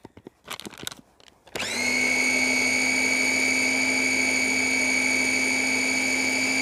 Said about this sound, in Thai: ปั่นส่วนผสมให้เข้ากันให้หมดเลยนะคะ